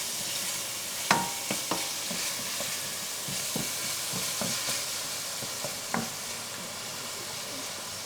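Oil sizzling steadily in a pan on the stove for Sicilian mussels linguini, a constant frying hiss with scattered light clicks and scrapes of stirring, fairly quiet and without talk.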